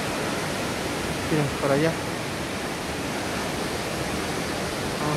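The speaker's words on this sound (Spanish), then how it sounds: "Vamos a ir subiendo y enfocando la cascada." The El Chiflón waterfall roars as a constant, broad rushing wash of falling water, loud and steady throughout, with someone briefly speaking over it partway through.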